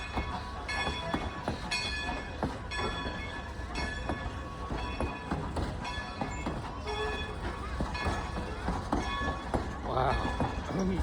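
Strasburg Railroad train departing, a steady rumbling mix of rolling wheels and engine noise with tonal whistle-like bands, heard fairly close throughout, with excited voices calling out over it.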